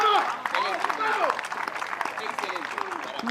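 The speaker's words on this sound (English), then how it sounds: "It's a huge cheer" A wheelchair tennis crowd at the NEC Wheelchair Masters bursts into loud clapping and cheering, with shouts and whistles mixed in, a dense near roar that thins slightly toward the end.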